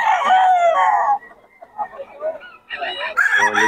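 A sweater-line gamecock rooster crows at the Bocaue market, a loud near call opening the clip, followed by quieter market murmur and then bursts of crowing or clucking from other birds alongside faint voices.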